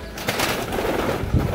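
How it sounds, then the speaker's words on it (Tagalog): A pet pigeon named Grisel, belonging to Gilbert, gives a few soft, low coos close by amid some rustling and handling noise. "itong ibon ni Paring Gilbert na Grisel ang ilap"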